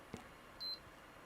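A multimeter in continuity mode gives one short, faint electronic beep while probing the 5-volt rail of a Power Macintosh 8500 power supply, alone against quiet background hiss.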